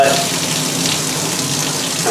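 Water runs steadily from a sink tap while hands are rinsed off, a continuous close splashing hiss lasting the whole moment, at an apple cider making session.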